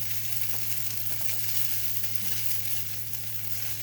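Rice frying in butter for fried rice makes an even, close hiss of sizzling with faint scraping and a low steady hum beneath, no voices.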